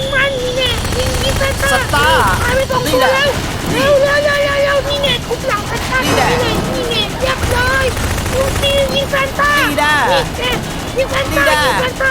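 Rapid gunfire and booming blasts in a Christmas battle video game, shooting at Santa and snowmen, fill the whole stretch with continuous loud action sounds while excited voices talk over the fray.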